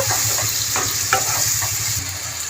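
Chicken stirred in a pan with whole chillies and cashew paste for handi chicken: a close, continuous sizzle with quick rhythmic scraping strokes of a spoon against the pan.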